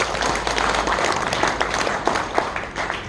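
Audience at a founding convention of a federation of anti-Japanese independence memorial groups, held in an assembly hall at the National Museum of the Korean Provisional Government, claps to approve the bylaws. It is a dense, steady burst of applause with scattered sharper claps and no speech.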